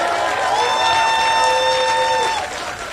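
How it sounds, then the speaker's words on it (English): A crowd at an outdoor civic event for the Bronx Point and Universal Hip Hop Museum applauds and cheers, with sustained whooping shouts riding over dense clapping before the cheers drop away near the end. "Come on, let's give them all a strong round of applause."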